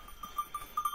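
Faint, metallic cowbells worn by cattle clank irregularly, a few soft clinks scattered over a quiet outdoor village background.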